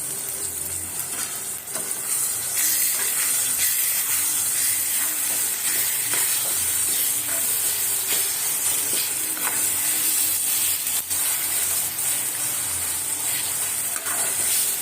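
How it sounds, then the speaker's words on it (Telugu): Masala paste frying in an egg curry, a steady, loud sizzle and hiss with occasional scraping stirs, continuous without pause. "మసాలా ఎప్పుడు బాగా ఫ్రై అవ్వాలి, లేకపోతే పచ్చి పచ్చి వాసన వస్తూ ఉంటుంది"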